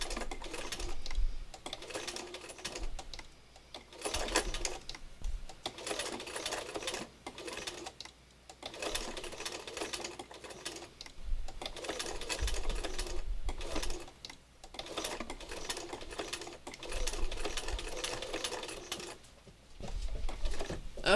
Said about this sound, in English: This is like slow stitching by machine.